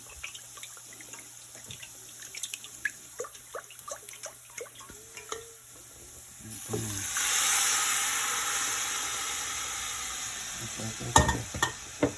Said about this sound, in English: Mix up the carrot.